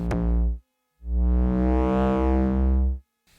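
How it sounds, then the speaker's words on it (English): Deep modular synth bass with harmonic-rich tones, played as two sustained notes, a short one and then a longer one, shimmering as random pings are sent through a Brainsource wave folder. "the trigger output goes into the brainsource wave folder for a random ping on"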